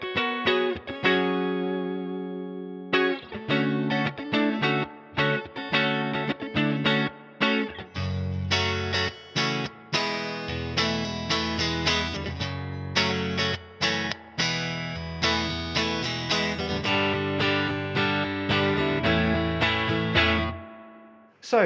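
Electric guitar played through Fender Princeton amps in a back-to-back comparison, a clean-to-driven tone with reverb and tremolo, strummed chords and picked phrases ringing out steadily and fairly loud without any talking.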